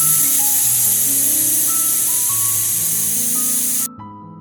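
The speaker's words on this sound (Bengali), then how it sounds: "আমি এখানে পাঁচ ছটা সিটি দেবো আপনাদের প্রেশার অনুযায়ী আপনারা সিটি দিন" A pressure cooker vents steam with a loud, steady hiss while cooking Bengali mutton kosha; the hiss holds close and constant for nearly four seconds, then cuts off abruptly, leaving a low hum.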